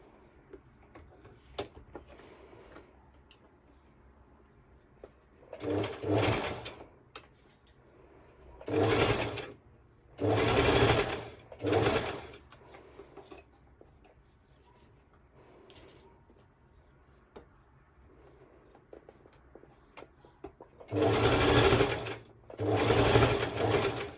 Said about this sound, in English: now I'm going to make a basting stitch like before